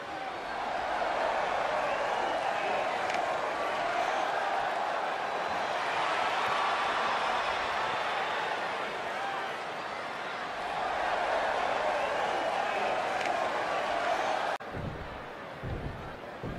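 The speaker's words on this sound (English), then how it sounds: "We've got an animated crowd here tonight" Dense, sustained roar of a wrestling arena crowd cheering at an Orlando NXT event, loud and continuous throughout, cutting off abruptly near the end with a few low thumps.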